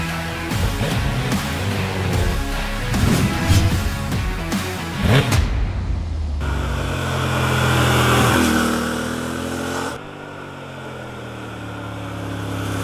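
A Yamaha Ténéré adventure motorcycle rides through loose terrain, its engine droning loudly and steadily with shifting revs, the tone changing abruptly as the machine moves past, with no talk over it.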